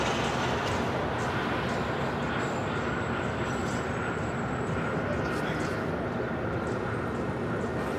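A Southwest jet rolling down runway 25 right at LAX, a steady broad distant roar of engine noise holding constant throughout, with a thin tone drifting over it.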